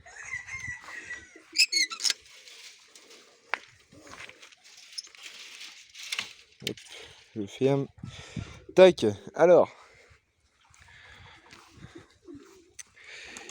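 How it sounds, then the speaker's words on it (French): Pigeons, young birds among them, fill a small backyard aviary with coos and calls, mixed with clicks of a door latch and someone talking over the birds. "Ici, on a pas mal de pigeons"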